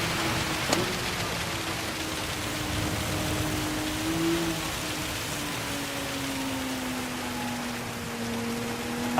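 Rain falls on a race track in Gran Turismo 7: a steady, even hiss runs throughout, with a car engine's faint droning tone underneath.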